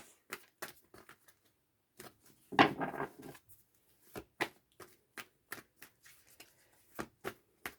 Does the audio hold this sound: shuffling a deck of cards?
yes